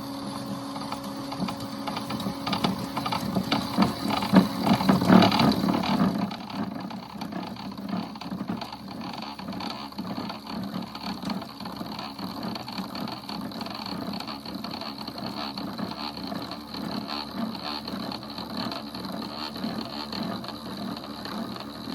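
A chattering tool scrapes against a wooden bowl spinning on a lathe at medium speed, making a steady rapid rattling buzz that swells briefly early on, then settles into an even, continuous chatter with no talking.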